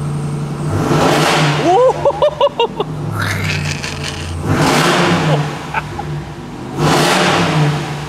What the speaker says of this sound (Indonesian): Gimana kalau kita coba gas suaranya?